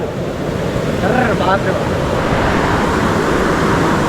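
Flooded river water rushes hard in a steady, loud roar with wind buffeting the microphone, a constant broadband wash filling the whole moment without pause.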